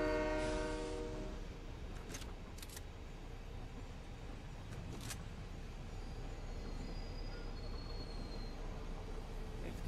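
In a Metal Gear Solid video game, a train horn blasts loudly at the start, then a train rumbles and rolls past steadily, with a few clanks over the continuous roar.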